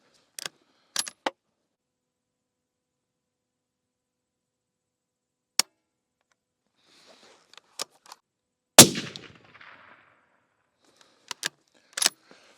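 Sharp, isolated reports from a 7mm Backcountry rifle fired with 170-grain Terminal Ascent loads, several shots spaced seconds apart with one louder close blast mid-clip and a quick pair near the end, no talking.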